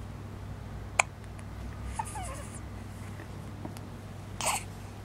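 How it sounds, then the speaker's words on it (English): A three-week-old baby hiccups softly a few times at irregular intervals, each a tiny quick catch against a quiet, humming room. "You have the hiccups, huh?"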